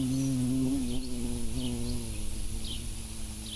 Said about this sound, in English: There's a bee buzzing around the microphone.